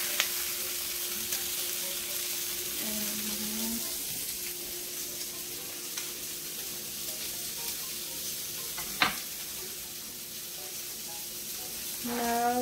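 Steady soft sizzling of a homemade hamburger patty topped with cheese frying in a pan continues throughout, with a few faint clinks and a sharp tap partway through.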